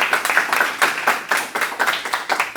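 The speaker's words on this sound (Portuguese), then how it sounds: "Então, uma salva de palmas." Rhythmic hand clapping from an audience at a Catholic professional and leadership program event, steady separate claps at moderate loudness with no talk over them.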